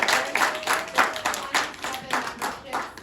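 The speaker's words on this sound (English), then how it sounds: "So We just have a round of applause for everybody" Hands clap together at a food co-op's annual meeting, a moderate, fairly quiet round of applause with uneven bursts of clapping.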